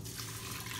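Water is poured into an Instant Pot holding Zatarain's cilantro lime rice, a brief, soft, steady trickle of liquid filling the pot.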